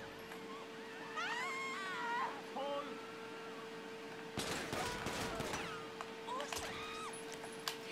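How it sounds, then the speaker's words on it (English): Gunfire in GTA 5 erupts as a dense crackling burst midway, preceded by whistling, warbling tones and a steady hum, and followed by scattered sharper sounds, all fairly faint. "Oh, he's shooting me!"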